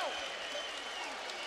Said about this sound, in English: There's the Polish crowd.